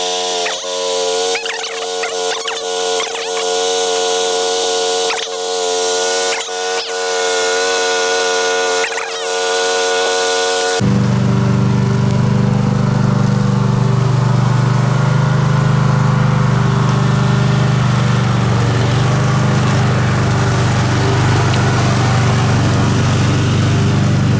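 A cordless electric brush cutter starts after quiet outdoor ambience, then runs loud and steady with a constant motor whine and hum, with no talking.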